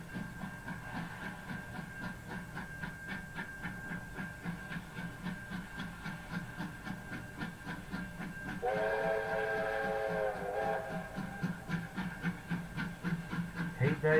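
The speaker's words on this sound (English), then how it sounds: "Oh yes, let that whistle go, baby. Let that whistle go." A big steam locomotive chuffs with a steady rhythmic beat, and partway through its whistle blows loud and near for a second or two before the chuffing carries on.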